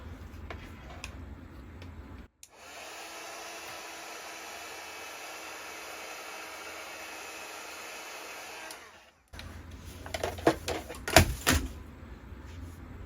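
A heat tool blows steadily for several seconds while melting Distress Foundry Wax, a soft even whoosh that starts and stops abruptly, framed by faint clicks and handling knocks.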